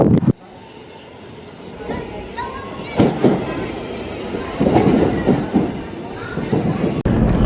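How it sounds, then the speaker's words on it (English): A New York City subway train rides along with a steady, rumbling rattle. Louder clatter and screeching surges come near the middle, and a voice speaks briefly. "Made it to the subway, last leg."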